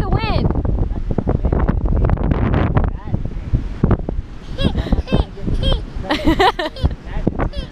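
Strong, gusty wind buffets the microphone outdoors while a kite is flown, a rough, steady roar under people talking throughout.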